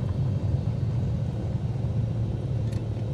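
A Cirrus SR22 taxis to general aviation parking, its steady low propeller-engine rumble droning evenly from inside the cabin without breaks.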